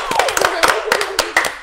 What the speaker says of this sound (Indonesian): teman-teman, tepuk tangan dong buat kalian dong